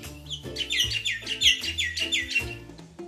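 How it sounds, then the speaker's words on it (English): A red bird chirps in a quick, bright series of repeated tweets, fairly soft, with a low musical backing underneath. "a red bird,"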